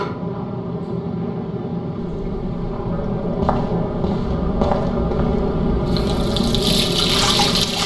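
Steady running tap water pours into a bathroom sink in the video game Life is Strange, close and continuous, getting brighter and splashier toward the end.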